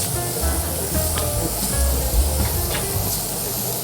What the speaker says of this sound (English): So it's now being cooked, and you can see the pork sizzle.